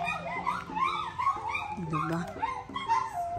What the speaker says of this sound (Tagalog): syempre may aso din dito